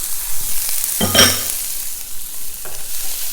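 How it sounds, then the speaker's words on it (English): Shredded carrots and finely chopped red pepper hit hot oil in a pan with a short, bright sizzle and stir, then settle to a low, steady frying hiss. "Mix those around in the oil."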